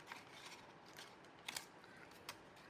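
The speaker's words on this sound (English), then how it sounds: "I am just gonna take some scissors and I'm gonna cut off like right there" Scissors snipping through card while building a papercraft gingerbread house scene, a few short sharp cuts, close and fairly quiet, with no talking.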